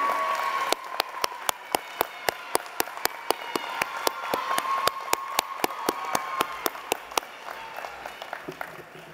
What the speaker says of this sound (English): Please join me one more round of applause for the 2017 Faculty and Student of the Year.